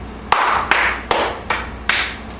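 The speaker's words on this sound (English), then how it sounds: "a loud clap, a soft clap, a loud clap, a soft clap." Five sharp hand claps in an even alternating loud-soft pattern, close and isolated, each with a short ringing decay and no talking.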